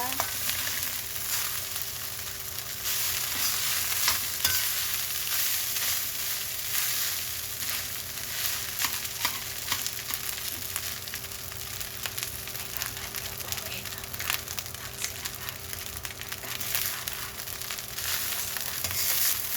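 Garlic fried rice (sinangag) is stirred in a pan, with a steady, continuous sizzle of frying rice and faint scraping all the way through, close and moderately loud, and no one speaking.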